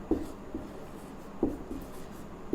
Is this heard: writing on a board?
yes